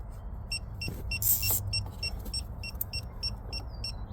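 A Geotab device installed in a Chevy Equinox EV gives a steady run of short, evenly spaced electronic beeps, about four per second, over a quiet low cabin hum with a brief burst of hiss.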